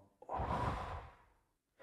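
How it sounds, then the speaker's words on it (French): A single deep breath during a breathing exercise: a slow, close, airy inhale swells and then fades out in a long, quiet exhale. "Alors on va faire une respiration."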